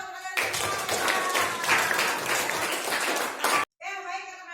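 Children in a classroom clap together in a lively burst of quick, uneven claps and a few young voices, lasting a few seconds before stopping abruptly, after which a voice carries on alone.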